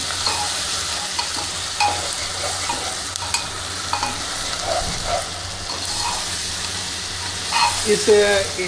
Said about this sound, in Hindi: इसको लगातार चलाते रहिए, क्योंकि नीचे पकड़ने का डर होता है कि प्याज नीचे चिपक ना जाए